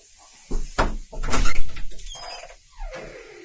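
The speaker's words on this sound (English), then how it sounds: "Open the door." A house door is opened with a few sharp clunks and rattles of the latch and frame, close and loud, then a softer scraping sweep.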